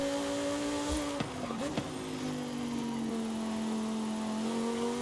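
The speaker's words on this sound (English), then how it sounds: "it's one of the most accurate V10 sounding cars in this game" A Lamborghini Huracan V10 in Forza Horizon 5 holds a steady high-pitched engine drone with faint shifting whine, close and continuous, dipping briefly around a gear change before settling back into a sustained cruise.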